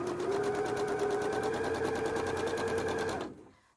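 A sewing machine runs steadily while chain piecing quilt blocks, one close and continuous stitching whir that holds its pace for about three seconds and then stops abruptly.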